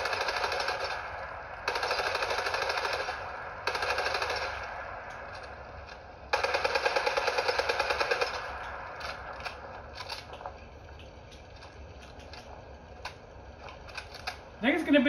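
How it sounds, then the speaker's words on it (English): A submachine gun fires in a video game in four rapid, rattling bursts of a second or two each, separated by short pauses, with a person talking alongside. "submachine gun's all over the place"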